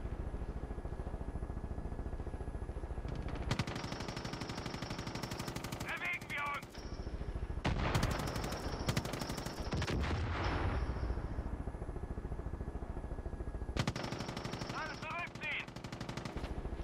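Bursts of rapid automatic gunfire ring out in the video game Far Cry 5: several long machine-gun volleys with short pauses between them, loud and close, with faint game effects in the gaps.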